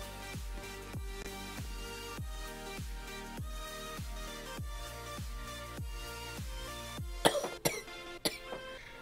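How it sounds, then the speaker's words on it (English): A few sharp coughs come near the end, loud and close, over a background of repeating musical notes. "Excuse me while I cough."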